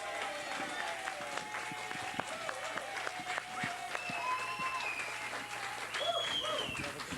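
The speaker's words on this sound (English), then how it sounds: "A big round of applause" A television bowling show audience claps for a returning tournament champion, with a steady wash of applause, some whistles and cheers, and faint talk in the studio.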